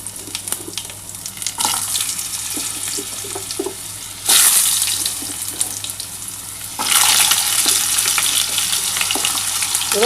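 Potatoes fry in hot oil in a wok with bay leaf and whole cumin, a loud, steady, close sizzle that jumps louder twice as more food goes into the pan. Light clatters from stirring come through, and no one talks.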